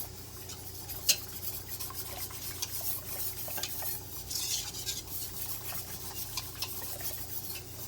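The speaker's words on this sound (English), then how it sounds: "So we're just stirring the pectin to get it good and dissolved" Pectin being stirred into grape juice in a pot for grape jelly: a spoon scrapes and swishes continuously, with a sharp clink against the pot early on and a low background hum, no talking.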